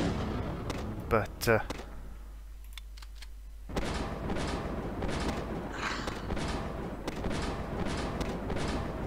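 Slug rifle gunfire in the zombie shooter game Zombie Defence: repeated sharp, fairly loud shots and impacts over a busy battle din, with someone talking over part of it.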